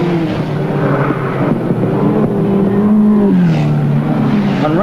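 Midget race cars at Western Springs Speedway in an international midget car series race in 1984/85, loud engines droning and revving with pitch rising and falling as they circulate the track, continuous and close, no talking.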